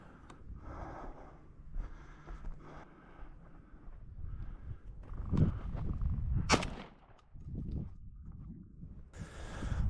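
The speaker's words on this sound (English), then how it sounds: "Shot right over top of him." A single shotgun shot fired at Gambel's quail in open desert ground, one sharp loud report standing out from wind buffeting and footsteps, with no talk.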